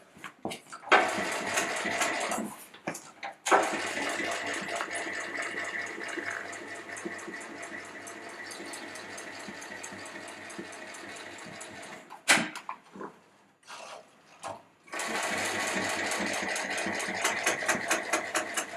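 Sewing machine stitching a bag, running in long continuous bursts of rapid mechanical chatter, close and loud, stopping and restarting with brief pauses and handling clicks between runs.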